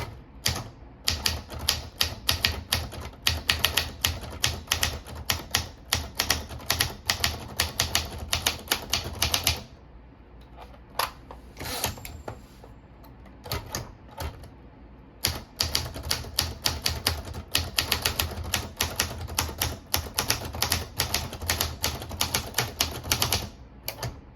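An SCM Corsair typewriter types in rapid, steady bursts of crisp, close keystrikes, broken by a short pause with a ratcheting carriage sound before the clattering resumes, with no voices.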